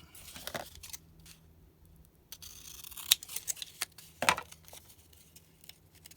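Scissors trim material on an emergency nail file kit with a few crisp, separate snips spaced over a quiet background, close and fairly soft.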